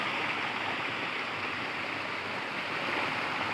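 Water falls into a pool below with a steady, broad rushing roar, fairly close and unbroken, and nobody speaks over it.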